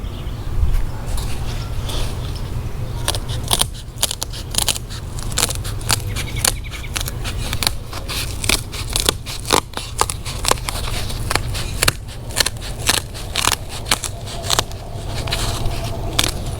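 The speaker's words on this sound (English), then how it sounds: "I'm gonna use some scissors to cut it." Repeated sharp snipping and crackling of scissors cutting through foam headliner trim for a classic car, close and steady, with a low background hum and no talking.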